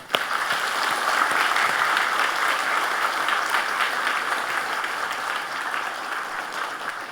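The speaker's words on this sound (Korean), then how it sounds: "우리 모두 함께 박수합시다." A church congregation applauds together during a Sunday sermon, a dense, steady wash of many hands clapping that holds at an even, fairly loud level for about seven seconds.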